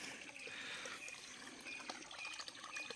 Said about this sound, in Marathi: आणि जे जास्त असेल पाणी ते इथे खाली तळ्या इकडे जमा होतं